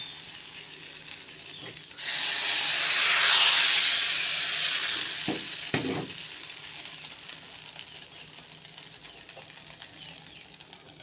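Appam batter hits a hot oiled pan and breaks into a sudden bright sizzle that swells, then slowly eases into a softer hiss. A couple of faint clicks follow, and nobody speaks.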